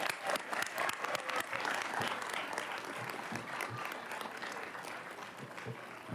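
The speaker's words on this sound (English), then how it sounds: "How about another round of applause for our retirees?" Sustained applause from an audience at an evening Board of Education public session, honoring retiring staff; steady dense clapping throughout at moderate level, tapering slightly toward the end.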